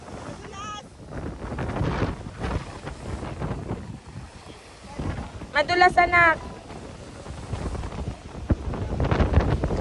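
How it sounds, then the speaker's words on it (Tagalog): Rough sea waves wash and surge at a freediving spot in Batangas, heard under wind buffeting the microphone, with people talking and calling out over the water throughout. "Sobrang lakas ng alon dito sa Freedive Drive."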